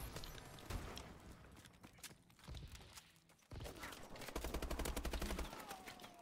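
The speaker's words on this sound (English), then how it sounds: "Who's shooting me?" Gunfire in the video game Call of Duty: Advanced Warfare crackles in rapid bursts and scattered shots, fairly faint, pausing briefly midway before resuming denser with mechanical clatter.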